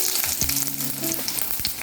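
Hot oil sizzling and crackling steadily as curry leaves fry after mustard seeds, with light stirring scrapes and no voices.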